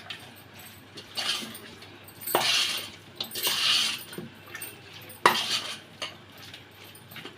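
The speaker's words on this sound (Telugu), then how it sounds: "ఇప్పుడైతే దీన్ని కూడా వేసేసి మిక్స్ చేసుకోవాలి మొత్తాన్ని" Utensil scraping and clinking against a pot while garlic paste and spices are stirred into chicken curry, a few louder scrapes and knocks at irregular moments, fairly quiet and close, with no talking.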